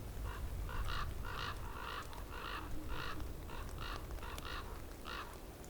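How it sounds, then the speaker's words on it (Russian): Crows, corvids that compete with white-tailed eagles at carrion, give a series of about a dozen harsh calls in a loose rhythm, moderately distant over a low wind-like background. "Это врановые птицы."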